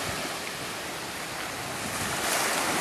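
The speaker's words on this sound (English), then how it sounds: "Now I'm going to take you over to the ocean." Ocean waves wash onto a Florida Gulf Coast beach, a continuous loud surf roar mixed with wind buffeting the microphone, no voices.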